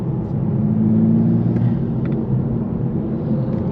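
A manual Toyota Supra MKV pulls in fourth gear, its engine and intake producing a loud, steady low rumble and drone heard from inside the car, with faint whirring on top.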